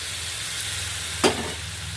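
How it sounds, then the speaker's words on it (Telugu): Tamarind juice tipped into a hot pan of fish curry seasoned with chili powder sends up a single short burst of sizzling over a steady background hiss. "కారం వేసాక ఏం చేయాలంటే మన చింతపండు పులుసు ఇందులో పోసేసుకోవాలి"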